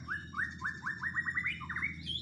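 A magpie robin songbird, a caged murai bird, sings a quick run of clear rising chirps that repeat in a steady rhythm, close and loud over a low background hum.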